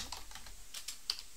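Typing on a computer keyboard in a quiet room. Several quick, soft key clicks come in a short, uneven burst, fairly close and faint, with no voices.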